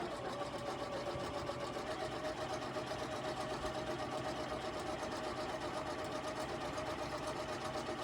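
A sewing machine stitches around the edge of a fabric pie pin cushion, giving a steady, faint mechanical whir that runs unbroken for the whole stretch.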